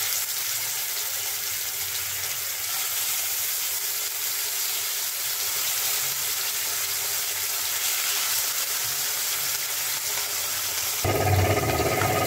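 Pabda fish frying in oil on a hot tawa gives a steady, loud sizzle that holds evenly throughout, swelling to a heavier crackle near the end.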